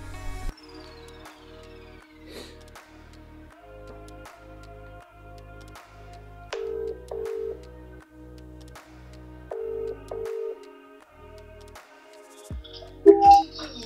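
Phone call tone with a regular pattern of low repeated pulses in evenly spaced bursts, faint and mechanical, changing pitch partway through, with a few brief clicks and a louder blip at the end.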